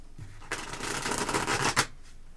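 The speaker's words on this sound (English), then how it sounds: "you're supposed to shuffle" A deck of tarot cards is shuffled close by in one riffling burst of about a second and a half, with quiet before and after and no talk.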